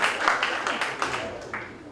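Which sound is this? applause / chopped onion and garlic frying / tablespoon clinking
applause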